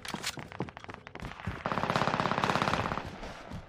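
Rapid automatic gunfire in the video game Call of Duty Warzone: a few scattered shots, then a sustained burst of fast repeated rounds at moderate distance, fading out at the end.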